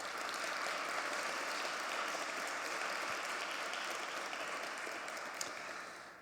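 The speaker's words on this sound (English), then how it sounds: "Let's give them a round of applause." A dense wash of applause from an audience honouring a board of directors at a Globe and Mail event on hate and racism, soft and distant but steady, easing slightly at the close.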